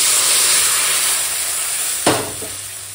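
Mung dal goes into a pan of hot fried spice tempering, and a sudden loud sizzle bursts out after a steady background hiss, then settles into a softer, crackling fry.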